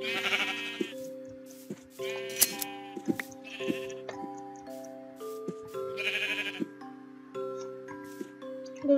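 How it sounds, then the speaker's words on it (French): Sheep in a video game bleat repeatedly in short wavering calls over soft, steady musical tones, with no talk. "je saurais qu'il y aura des moutons aussi"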